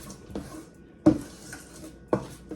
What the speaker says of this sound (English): now you're gonna mix in the chocolate chips